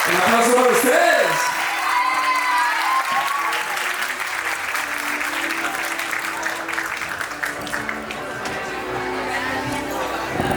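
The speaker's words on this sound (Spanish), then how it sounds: "Un aplauso para ustedes." Audience applause at a graduation party, loud sustained clapping from a crowd with scattered cheers and shouts, a voice speaking over it through a PA.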